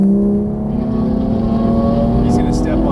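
A Porsche GT3 engine runs on light throttle on a track, a close, steady drone whose pitch rises slowly. The tone stays smooth and even throughout.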